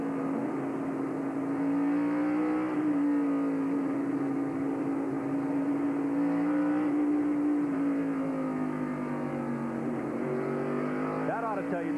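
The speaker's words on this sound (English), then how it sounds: "Three-quarter throttle right there. You can hear they're not revving it up." A race car engine holds a steady part-throttle drone through a lap, its pitch rising and dipping gently with a brief upward sweep near the end, heard from onboard with continuous wind and road noise.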